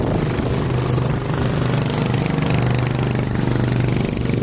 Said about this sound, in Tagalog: matutuling bangka dito sa amin